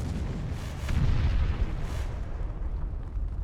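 A gunshot in the SOCOM US Navy Seals video game, a loud, low, rumbling boom that swells for about a second and then decays into a long tail.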